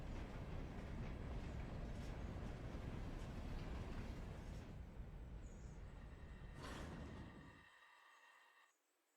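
A train in the Railroader video game brakes hard: a loud, steady rumbling roll that fades and drops off sharply into near silence toward the end.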